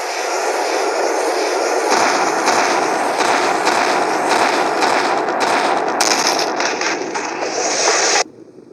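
Katyusha rocket artillery in a Russian video game unleashes a loud, dense barrage of rapid launches and blasts that crackle on without pause for about eight seconds, then break off abruptly.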